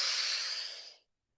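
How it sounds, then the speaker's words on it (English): One long, deep breath exhaled slowly during a guided mindfulness pause, a close, airy hiss that holds steady then fades out over about a second, followed by silence. "take two more breaths in this way, and just really let those breaths be as full"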